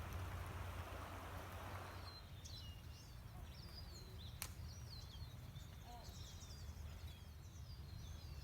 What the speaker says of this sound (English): we got all this rain, so the river is running right now